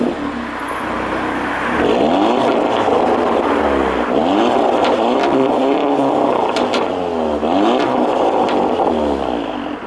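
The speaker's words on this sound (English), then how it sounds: "I'll try and get a little video of the exhaust and how this car sounds now with the stage 1 as well" Audi TTS with a stage 1 tune, its exhaust droning loud and steady with repeated rising and falling revs across the whole stretch.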